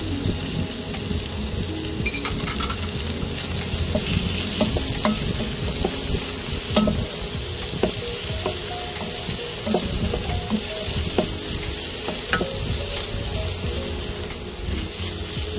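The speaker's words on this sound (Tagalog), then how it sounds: "lagay na natin yung ating chicken" Chicken sizzles and fries in a hot pot while being stirred for Filipino chicken sopas, a steady close crackle with scraping stir strokes and no talking.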